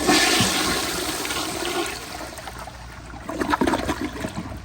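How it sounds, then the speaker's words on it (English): A 1942 Standard Modernus toilet flushes on a flushometer valve, a loud rushing whoosh at the start that eases into a steady swirl and then lighter refill trickles, heard up close with no talking. "now I'll do another flush from this angle."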